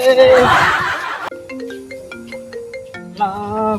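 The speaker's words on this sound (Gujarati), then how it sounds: "કેનો ફોન આવ્યો?" A mobile phone ringtone plays a short melodic tune of clear, repeated electronic notes. A burst of laughter and voices comes just before it.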